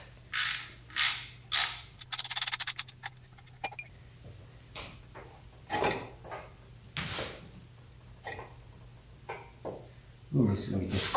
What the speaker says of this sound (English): So let's remove that bolt.